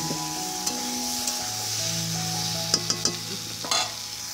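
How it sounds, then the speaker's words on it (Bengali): Soybean and potato curry sizzles steadily in a pan while being stirred, with a continuous frying hiss and a few scraping clinks of the spoon, close and clear without talk. "আর এদিকে আমার তরকারিটা প্রায় কষানো হয়ে গেছে,"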